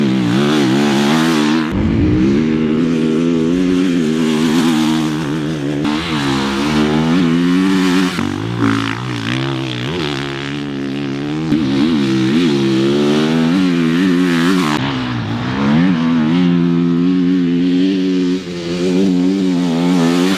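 A 2026 Triumph TF450X motocross bike on Pirelli MX32 tires, its single-cylinder engine loud and close, revving up and down continuously with rising and falling pitch as it's ridden hard.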